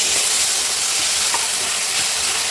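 Tomatoes hit a hot pan of frying paneer bhurji with garlic paste, giving a loud, dense, steady sizzle and hiss that fills the whole moment up close.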